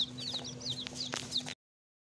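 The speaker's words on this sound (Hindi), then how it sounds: "चूजे ये रहे, टोटल अभी 7 चूजे निकले" Newly hatched chicken chicks in an incubator peep in a quick series of high, thin chirps, close and fairly faint, over a low steady mechanical hum that cuts off abruptly.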